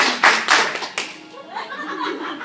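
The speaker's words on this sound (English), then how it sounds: "Let me hear you clap. You clap four times." Claps from a group at a college spirit and cheer workshop, a few sharp hand claps early on that then trail into a softer, murmuring crowd.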